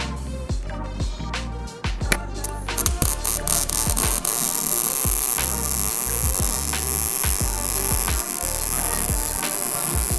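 MIG welding an open butt root on a beveled joint gives a steady loud buzzing hiss with irregular crackling pops and sharp spikes throughout, close and continuous.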